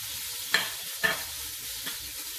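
Pork chops sizzle steadily in a hot pan, a soft continuous frying hiss broken by two sharp clacks of a utensil as the meat is turned, close and fairly quiet.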